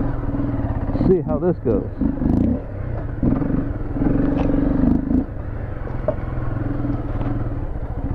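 A motorcycle rides narrow wooded trails near the Caberfae trailhead in Cadillac, Michigan. Its engine gives a continuous close rumble with a few revving surges, under a rider talking for most of the clip.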